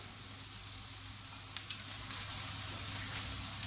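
Stir-fry oil sizzles in a pan with chicken wings, a steady close hiss of frying with a few faint crackles, swelling slightly louder partway through.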